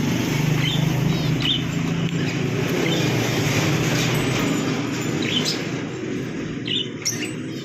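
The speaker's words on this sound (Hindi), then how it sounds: "और ये ऑस्ट्रेलियन पैरेट्स हैं, ये फिंच ऐसे तो नहीं मैं डाला, ऑस्ट्रेलियन पैरेट्स हैं" Australian parrots and finches chirp together in a cage, with many overlapping high tweets over a constant busy background hum and no talk.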